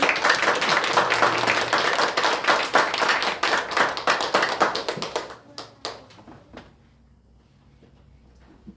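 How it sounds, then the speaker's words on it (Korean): Church congregation clapping during a thanksgiving service, brisk and fairly close, then fading into scattered separate claps and quiet. "자, 한번 박수 한번 할게요."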